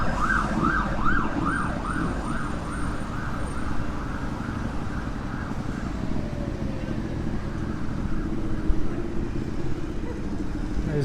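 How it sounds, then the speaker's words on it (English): An ambulance siren wails through a street in Newtown, Sydney, its rising and falling tone clear at first, then fading as it passes over a constant bed of traffic rumble. "And goes an ambulance, which we Aussies call ambos."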